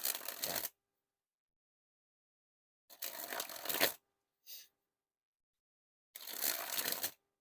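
Theory11 Animal Kingdom playing cards spring from hand to hand in three short riffling bursts with a brief flick between, crisp and close in a quiet room.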